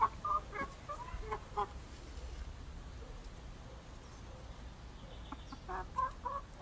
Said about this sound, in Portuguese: Galinha, cadê a galinha?